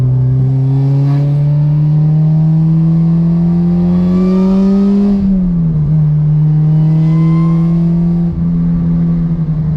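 A supercharged 2011 Honda Civic Si accelerates hard through the gears, its engine drone rising steadily with a shift dip midway, loud and close, with supercharger whine riding on top.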